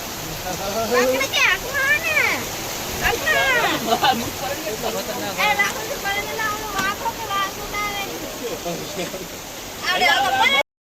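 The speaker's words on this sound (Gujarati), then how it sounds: "વરસાદ સારો વરસ્યો ફૂલ જબરદસ્ત વરસાદ પડ્યો છે હજી છાંટા પડેલા છે" Heavy rain and flowing water across farm fields planted with groundnuts, a steady broadband rush running throughout beneath continuous talking.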